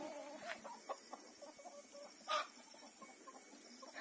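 Soft, scattered clucking from a few chickens, with a couple of louder squawky bursts rising above the low, steady background.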